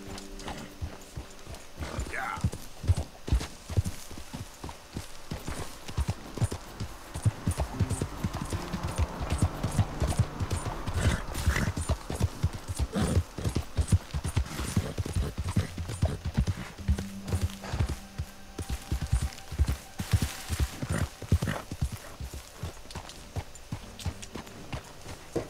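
Hooves pound in a steady clip-clop gallop from a horse in the Red Dead Redemption II video game, loud and continuous throughout, with a brief whinny and a faint voice over the running.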